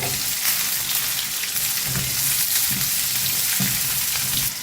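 Crushed garlic and chopped onion fry in oil in a pan for a garlic kuzhambu, a loud, close, continuous crackling sizzle with a few dull stirring thumps, no talking.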